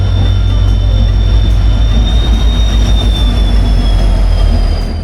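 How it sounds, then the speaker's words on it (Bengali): A train rolls into Howrah station with a loud, close, steady rumble, a high metallic wheel squeal drawn out over the top and faint rhythmic clatter underneath, easing slightly at the very end. "আর সেখানে ট্রেন ঢুকছে আমাদের"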